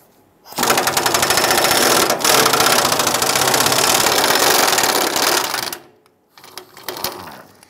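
A power tool loosens and removes 18 mm bolts under a 1995-2001 Ford Explorer during a fuel pump module job with the gas tank supported by a jack. A loud, continuous buzzing rattle runs about five seconds with one brief dip, then quieter fumbling follows.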